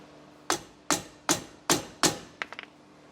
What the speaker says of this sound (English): I need to be a little bit more careful as I'm hammering this.